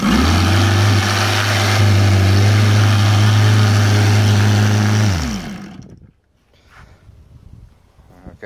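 An OS Sirius 7 FR7-420 radial model engine with CH Ignitions glow CDI conversion runs close and loud at a steady low drone, then is shut off and winds down to quiet.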